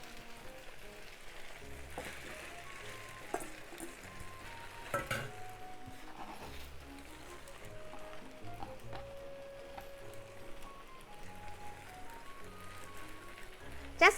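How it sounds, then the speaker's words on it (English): Vegetables and seafood for yakisoba noodles cooking together in a single pan, giving a steady low sizzle with a few sharp clinks and scrapes of stirring utensils against the pan. "Just keep cooking until the vegetables are wilted."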